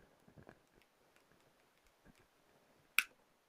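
One sharp metallic click of split ring pliers locking onto a split ring snaps out near the end, louder than the faint handling noises and small taps that come before it.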